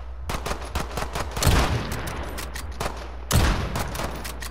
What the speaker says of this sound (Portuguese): vai ser só um tiro de rifle